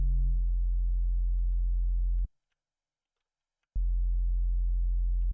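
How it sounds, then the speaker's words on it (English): A synthesized sine wave tone in Bitwig that carries an extra harmonic, a steady low hum that plays, cuts out abruptly to silence for about a second and a half, then returns unchanged. "So this naturally has an extra harmonic built into it, even though it's only supposed to be a sine wave."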